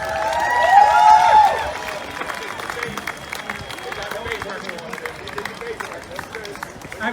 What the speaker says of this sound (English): let's give a bigger round of applause for this family